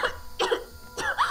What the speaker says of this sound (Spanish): Es suficiente, no tienes que seguir tosiendo